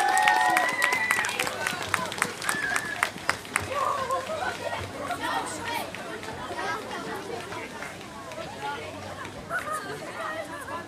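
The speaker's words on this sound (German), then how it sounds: "Applaus!" An audience at the Lichterdorf event claps for the Dragon Girls Peewee cheerleaders, with scattered hand claps over steady crowd chatter and a voice calling out early on.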